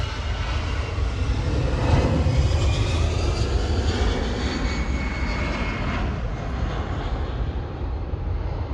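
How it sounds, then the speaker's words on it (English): A Lufthansa airliner bound for Athens roars through its takeoff run, a loud, steady broadband jet rumble swelling slightly around two seconds and then holding strong without any talk. "Next takeoff, we have Lufthansa"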